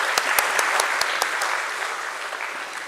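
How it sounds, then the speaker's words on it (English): An audience at a stock exchange listing ceremony for DAM Capital at BSE breaks into applause, a steady wash of many hands with a few sharp individual claps standing out early, then tapering slightly. "Let's give a huge round of applause for them"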